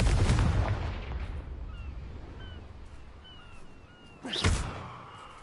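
A Confringo fire spell explodes in the video game Hogwarts Legacy: a loud, booming blast opens the clip, soft whistling magical effects trail in between, and a second sharp explosive burst hits near the end.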